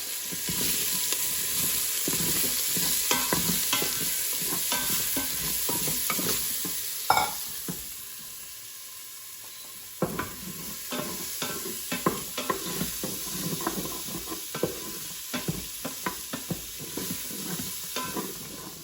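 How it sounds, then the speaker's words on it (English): Steady frying sizzle of onions sautéing in an Instant Pot, with repeated utensil scrapes and clicks against the pot, loud and close, briefly dropping quieter before the stirring resumes. "We're adding our onions. And again, you can hear that sizzle."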